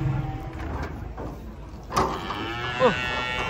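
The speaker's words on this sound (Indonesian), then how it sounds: "sapi raksasa ini yang tengah nih" Large cattle being unloaded from a truck in the morning give a couple of deep, drawn-out moos, one at about two seconds and another shortly after, with clattering metal and handling noise around them.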